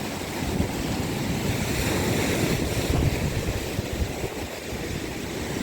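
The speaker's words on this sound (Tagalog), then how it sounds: "Ang lakas ng hampas. Ang agos." Waves crash and surge against the shore at Mauban, Quezon, a loud, continuous roar of surf with wind buffeting the microphone, rising and falling with the swell and no voices.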